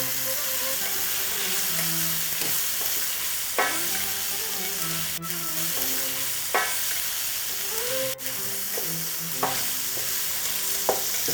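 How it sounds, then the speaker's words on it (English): A wooden spoon stirs and scrapes browning spices across the bottom of a pan for chicken breyani, giving repeated scraping strokes and sharp clicks over a steady close sizzle. "Just use a wooden spoon and scrape the bottom of the pan"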